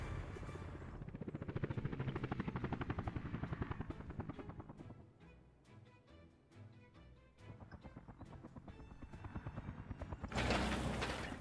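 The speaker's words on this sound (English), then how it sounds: "helicopter has started bringing resources to this road" In the Workers and Resources video game, a helicopter delivering resources to a road gives off a steady rhythmic rotor chop with a few brief dips, while a louder burst of noise sounds near the end.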